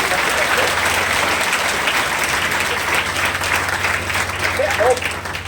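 Loud, sustained applause from an audience at a Hindi poetry recital honouring the birth anniversary of a Mewar social worker, with steady, dense clapping throughout.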